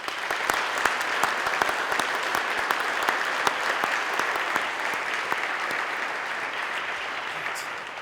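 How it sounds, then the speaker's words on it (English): Steady applause from a large commencement ceremony crowd, somewhat distant and even in level throughout, with individual claps popping out of the dense wash of sound. "let's give all of those terrific PSEO students a big round of applause"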